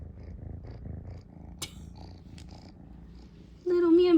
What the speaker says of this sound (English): He has a loud little purr.